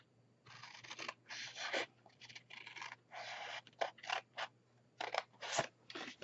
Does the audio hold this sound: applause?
no